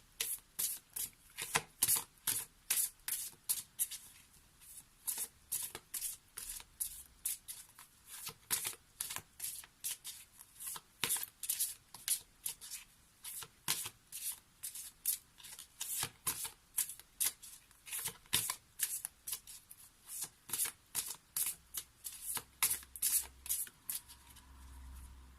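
Oracle cards are shuffled close by in a long run of quick, crisp riffling bursts, repeating steadily for about twenty-five seconds with brief pauses between handfuls, otherwise quiet.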